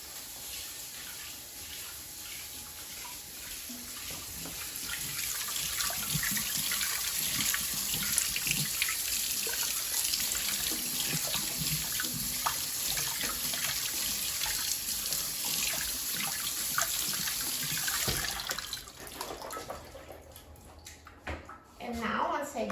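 Canned kidney beans rinsed in a colander under a running kitchen tap, a steady close hiss of flowing water that spatters over the beans for most of the stretch and then stops near the end.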